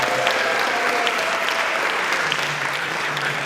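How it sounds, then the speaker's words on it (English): A concert audience applauds a high school percussion ensemble, steady dense clapping filling the hall for several seconds without pause, with no voices over it. "One more round of applause for that group right there."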